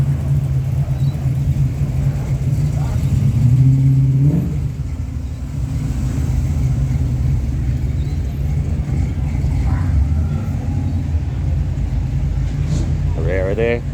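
At a night car show in Hastings, Australia, a car accelerates away with a loud, deep engine rumble that swells and then fades, while voices murmur in the background.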